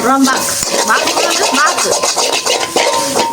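Kottu roti being chopped and fried with egg in a pan at a roadside-style stall, heard as rapid, loud metallic clatter of blades striking the pan in a steady rhythm, with voices talking over it.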